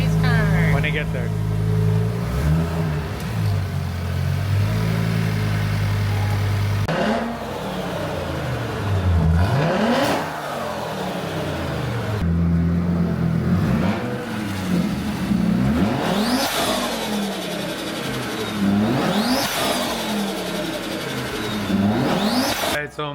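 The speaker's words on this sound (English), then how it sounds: "We'll let it warm up and we'll give it a rev" An 800-horsepower Audi RS3 8Y with an upgraded intercooler revs repeatedly while warming up, each sharp rising and falling rev close and loud, following a steady idle, with people talking nearby in between.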